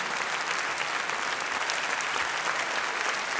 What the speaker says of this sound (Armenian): խնդրում եմ բարձր ծափարեք